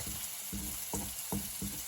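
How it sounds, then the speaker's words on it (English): Mushrooms sizzle in garlic butter over high heat in a pan. A steady close-up frying hiss is broken by regular pulses of stirring about every half second. "so my mushrooms get to sizzle as well as to get some color"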